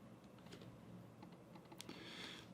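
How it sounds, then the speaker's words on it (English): Someone types a name on a computer keyboard, a quiet, close patter of scattered key clicks with an uneven rhythm, ending in one sharper tap. "Down here, I'd type in my name."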